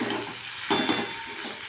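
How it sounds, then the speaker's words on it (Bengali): Spice paste frying in a pan is stirred, with a steady hiss of frying and two or three sharper scraping strokes near the middle of the short moment, close and moderately loud with no talking. "আমি ভালো করে একটু নাড়াচাড়া করব।"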